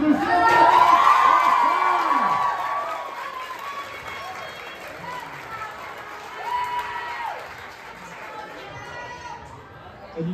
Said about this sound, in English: Let's lift up our voices and really cheer for all of our amazing coaches.